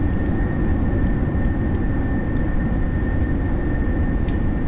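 Steady, loud jet engine roar of a Tu-220RB aircraft in Kerbal Space Program, a constant broadband rush with a faint whine on top and no voices.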